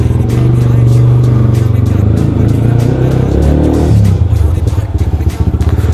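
A motorbike engine revs loudly on a night group ride around Shastri Park, a strong steady drone with rising and falling pitch that holds throughout, easing slightly near the end.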